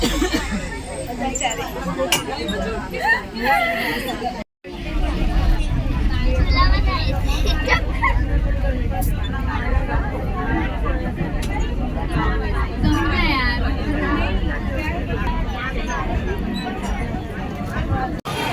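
Dense crowd babble fills a busy Khopoli railway station, many voices overlapping continuously with background vehicle rumble and a brief dropout partway through.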